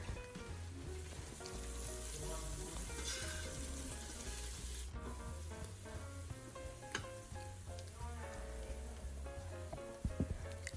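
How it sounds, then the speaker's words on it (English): Mint leaves saute in a pot for mutton biryani with a dense, even sizzle held throughout, a low steady hum underneath and an occasional clink of a utensil, with no voices. "at this stage we are going to add some mint leaves and just give it just a few minutes to saute"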